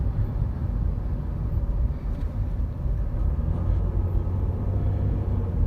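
A Ford Escape V6 drives over tar strips on the road, heard from inside the cabin as a continuous low road and engine rumble with no distinct thumps standing out.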